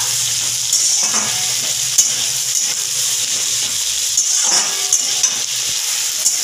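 Broad beans and potatoes are stir-fried together in a hot pan for a fish dish, giving a loud, continuous close sizzle with occasional scraping stirs and no talking.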